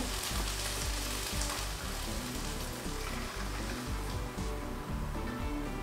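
Porcini risotto bubbles and sizzles in a pan after broth is added, a dense continuous sizzle with rhythmic scraping pulses from stirring, close and fairly loud, no speech.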